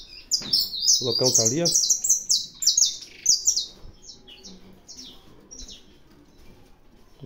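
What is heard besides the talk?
saffron finches (canário da terra) squabbling in a breeding aviary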